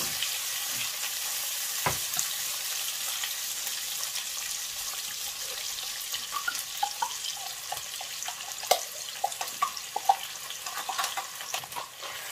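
Concentrated tomato paste fries for a Nigerian green and pumpkin leaf stew with a soft, even sizzle, and light scrapes and clicks of stirring grow busier toward the end, with no voices.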